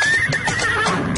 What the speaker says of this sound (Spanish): ¡Oh, ese caballo es maravilloso, doctor!